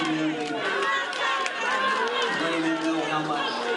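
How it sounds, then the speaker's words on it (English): A crowd chants together at a governor's speech after the Oregon District mass shooting, a dense mass of raised voices forming a steady, loud roar with rhythmic swells throughout. "The crowd there was hard to hear, but they were chanting "Do something,""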